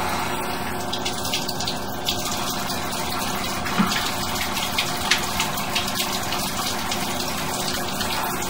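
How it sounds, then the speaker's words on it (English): Tap water runs steadily into a laundry room floor drain between a sink and a furnace, a constant close gushing and splashing with small irregular spikes. "Now we're going to turn on a little bit of water."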